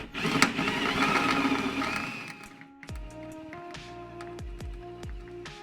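A drill bit bores through a corroded rivet while fender flares are fitted to a 2nd-gen Ram 2500, first a steady loud grinding whine, then a quieter stretch of sharp clicks and knocks as the rivet gives way.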